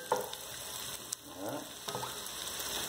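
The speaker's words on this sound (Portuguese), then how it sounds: "Vai fritar aqui." Cassava fries in hot oil with chopped onion, giving a steady crackling sizzle punctuated by a few sharp pops and the scrape of stirring, close and moderately loud.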